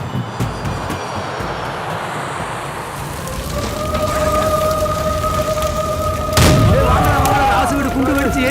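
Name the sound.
bomb explosion blowing up a house, movie sound effect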